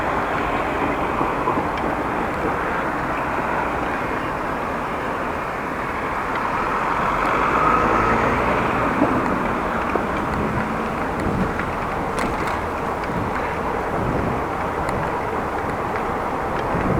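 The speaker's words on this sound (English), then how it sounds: "Train crossing, be careful." A train passes a railway crossing on a cycling route near Groningen, its steady rumble continuous and fairly close throughout, mixed with outdoor wind and rolling noise, with no talk.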